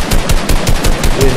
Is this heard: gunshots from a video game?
yes